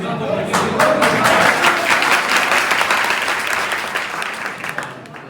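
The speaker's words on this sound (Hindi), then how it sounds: "थोड़ा सा तालियों के साथ समर्थन कर दीजिएगा" A dense round of audience applause at a teachers' day celebration, many hands clapping steadily and loudly throughout with a slight fade near the end.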